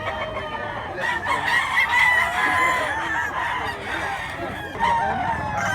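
Gilmore Hatch gamefowl roosters crow several times at close range among clucking farmyard birds in Cebu, with faint voices in the background.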